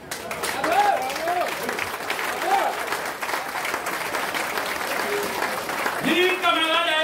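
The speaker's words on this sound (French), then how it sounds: "qu'elles nous applaudissent" Crowd at a street rally during a general strike in Pointe-à-Pitre, Guadeloupe, claps at moderate loudness under and between spoken voices over a loudspeaker, the clapping continuing steadily throughout.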